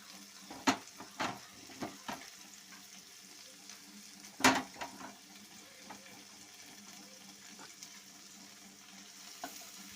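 A spoon stirs a jackfruit seed and spinach thoran in a pan, with soft scraping strokes and scattered sharper clinks over a faint steady sizzle, close and moderately quiet, no voices.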